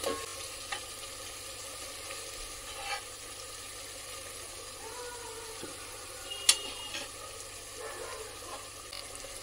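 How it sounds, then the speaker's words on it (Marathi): Fried pieces are stirred into a spiced homemade masala gravy in a pan, with a soft continuous sizzle and occasional faint spoon scrapes and clinks, quiet and close, with no talking. "आणि 1-2 मिनिटं हे छान असे ढवळून घ्यायचे."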